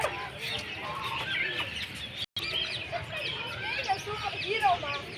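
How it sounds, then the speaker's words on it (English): Birds in an aviary at Lakeview Park's bird house, with clucking fowl and scattered chirps over steady background chatter from visitors talking nearby. "Oh, bird."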